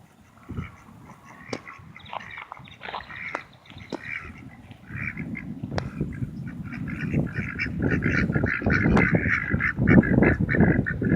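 Ducks at a city park quack and honk in a busy, overlapping chorus that grows louder and denser, close by, with no one talking.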